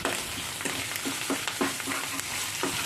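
Poppy seed and cashew paste being stirred in a frying pan, with a steady sizzle and repeated scraping strokes of the spoon at a close, moderate level and no talking.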